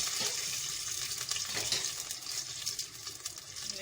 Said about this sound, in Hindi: तो मैं हल्का सा ब्राउन करूंगी प्याज को।